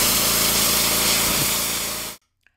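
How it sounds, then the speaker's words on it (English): A rental pressure washer sprays water in a steady, loud broadband hiss that runs for about two seconds and then cuts off abruptly, leaving near silence with one small tick. "You are now ready to start cleaning with your yardrents.com pressure washer."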